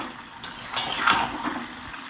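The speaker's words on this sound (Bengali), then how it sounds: "ভালো করে নেড়ে চেড়ে মাছটা সবজির সাথে মিশিয়ে দিতে হবে" Fish with winter vegetables in gravy for a Bengali amodi macher chorchori being stirred in a pan, a few soft scrapes and clinks of a spatula over a low simmering hiss, close and brief.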